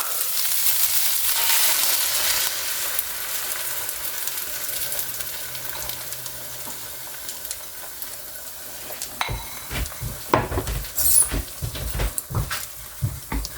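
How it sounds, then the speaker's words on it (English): Eggs hit the hot oil of an electric skillet and fry with a steady, close sizzle, broken near the end by sharper crackles and spatter bursts. "let's throw our eggs in now"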